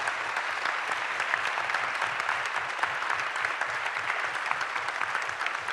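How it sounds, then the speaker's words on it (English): Steady, dense applause from a crowd at a candidate forum, loud and sustained throughout with no pauses or speech standing out. "all join me in a big round of applause for our candidate"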